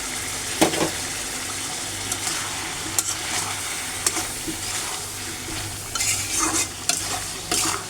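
Chicken coated in ground coriander, dried chilli powder, turmeric and salt sizzles steadily in a pan while a spoon scrapes and stirs it in repeated strokes, the frying hiss continuous and close with sharper clatters throughout.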